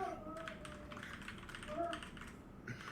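Rapid, irregular clicks of a computer keyboard as a comment is typed, close and steady throughout, with faint background murmur but no clear speech.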